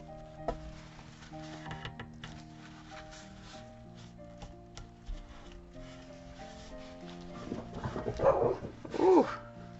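A dog barks and yelps in a couple of short, close bursts near the end, rising over quiet background sound in a home craft setting.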